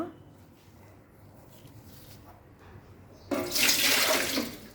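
Water goes into a cooking pot, first a quiet stretch of faint kitchen noise, then a loud, close, splashing pour for the last second and a half.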